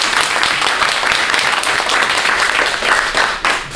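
Congregation applauding for the pastor in a church, a loud, sustained wash of many hands clapping that carries steadily to the end.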